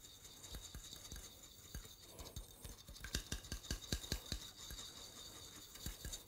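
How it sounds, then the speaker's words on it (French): A whisk beating oil with hot vinegar and cooking juices for a salad dressing, heard as a quick run of close, rhythmic clicking and scraping strokes against a bowl, quicker and louder toward the end. "le petit instrument tout à fait classique pour battre"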